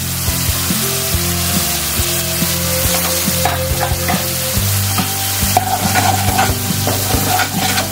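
Spice paste with a little chili powder sizzling and being stirred in hot oil for a mustard-poppy seed hilsa curry, steady loud frying with scraping of a spatula against the pan.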